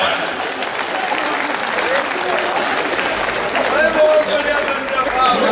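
An audience at a comic poetry gathering in Delhi claps continuously in a dense, even wash of applause, with voices rising over it toward the end.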